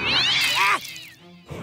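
A cartoonish cat meows in the South Park: The Stick of Truth video game, one drawn-out wavering meow followed by a shorter, softer second cry, close and clear over quiet game sound.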